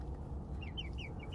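Backyard hobby-farm chickens cluck in quick soft bursts, several short calls close by over steady low outdoor background noise.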